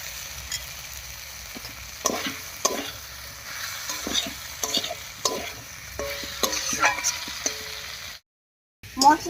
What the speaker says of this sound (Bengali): মশলা আর আলুর সঙ্গে পটলটাও খুব ভালো করে কষিয়ে নিয়েছি